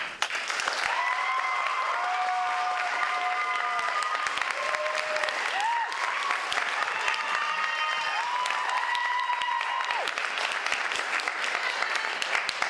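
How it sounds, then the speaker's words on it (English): An audience at a college elevator pitch competition applauds and cheers, dense clapping sustained for several seconds while a few people talk and sustained tonal sounds weave over the crowd noise. "Are you guys cheering for Wes?"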